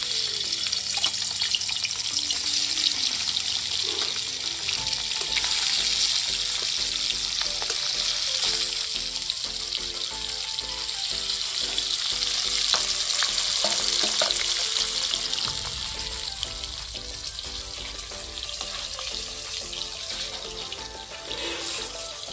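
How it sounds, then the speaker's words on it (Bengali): Small chela fish sizzle steadily in hot oil over a wood fire, a dense continuous frying hiss with light stirring and clinking, loud and close throughout, no talk. "গরম হয়ে গেছে বন্ধুরা, আমি মাছগুলোকে আবার একে একে দিয়ে দিই।"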